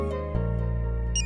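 A phone rings with a bright, repeating electronic ringtone that starts abruptly and continues steadily, loud and close, with no talking.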